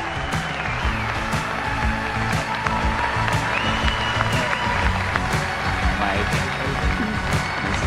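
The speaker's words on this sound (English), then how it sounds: "Let's give him a super warm, welcoming applause and bring him on out here." Sustained audience applause greeting a guest onto the stage at the opening keynote of a large tech conference, a loud, steady wash of clapping throughout with amplified walk-on music beneath it.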